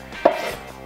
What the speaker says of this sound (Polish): Pomidory kroimy w raczej spore kawałki